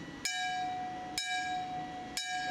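An aluminum bell struck three times at even intervals, each a sharp clang with a thin, tinny ring of bright overtones that fades fairly quickly; close and clear, with no talk.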